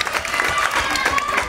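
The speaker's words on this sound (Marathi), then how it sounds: "जोरदार टाळ्या झाल्या पाहिजेत." An audience at a women's competition event breaks into applause, a brief burst of scattered clapping from a crowd in a hall, with voices mixed in.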